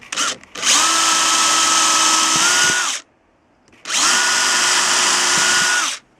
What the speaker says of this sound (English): with a very small drill bit we're going to drill the holes, the pilot holes for the screws